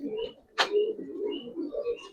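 Giribaz pigeons coo softly at close range in low, throaty, rolling bursts, with a short sharp flutter or call in the middle.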